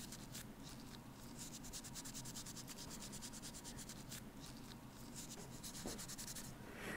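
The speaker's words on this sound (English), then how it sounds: "I am using a Scotch-Brite pad to, I'm not only cleaning the surface, I am lightly abrading the surface." A Scotch-Brite pad rubs and abrades a metal surface being cleaned for enameling, producing a continuous close scratchy scrubbing with rapid back-and-forth strokes throughout.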